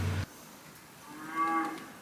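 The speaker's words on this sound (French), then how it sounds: "vous risquez d'entendre une vache, un meuglier" A cow moos once outdoors, a low drawn-out call that swells and fades at moderate distance, heard alone after a brief burst of other noise.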